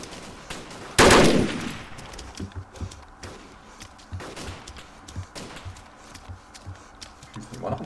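Gunfire in the video game DayZ: one loud close shot opens, followed by scattered fainter, more distant shots and impacts in an irregular rhythm, with no talking.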